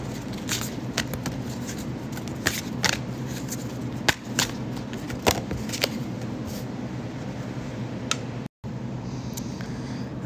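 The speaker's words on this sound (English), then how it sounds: "Today we're going to shuffle some cards" A deck of Dharma cards bearing sayings of the Buddha is shuffled nearby, with repeated crisp riffles and slaps in an irregular rhythm over a soft background hiss, pausing briefly near the end.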